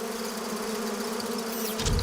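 Honeybees hum in a close, continuous drone that stays level for about two seconds, with a brief rustle at the end.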